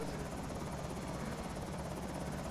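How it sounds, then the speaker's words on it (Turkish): A helicopter flies overhead in the video game Project Zomboid, its rotor making a steady, continuous thumping drone across a short stretch. "Helikopter tepemizde mi oğlum?"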